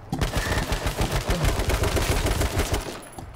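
Rapid automatic gunfire in the online battle royale game H1Z1 King of the Kill, dense bursts of sharp shots crackling continuously for about three seconds with no talk.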